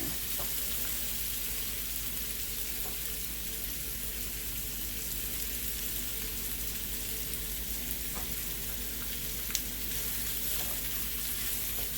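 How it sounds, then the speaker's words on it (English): Tofu fries in a pan on lowered heat, giving a steady, even sizzle with faint crackles throughout and no voices. "So that's why I'm turning down the heat and not frying it as fast."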